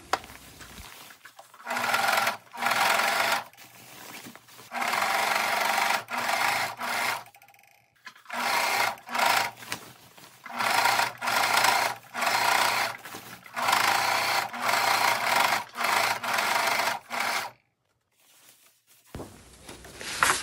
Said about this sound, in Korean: 바느질한 시접선을 따라서 오버록 스티치를 해줍니다.